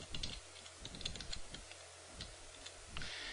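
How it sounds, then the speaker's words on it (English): Rapid light clicking of keys on a computer keyboard while a password is entered, a quick irregular patter heard close and alone. "then I'll just type in the password for that account"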